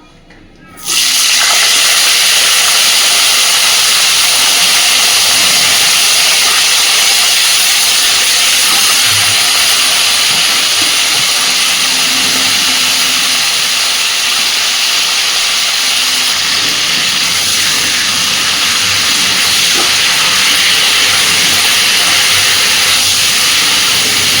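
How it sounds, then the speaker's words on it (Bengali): Cauliflower florets frying in hot oil give a loud, steady hiss that starts abruptly after a moment of quiet and holds strong and continuous, close up, with no voices. "ওই একই তেলে এবার আমি ফুলকপিগুলো ভেজে নেবো"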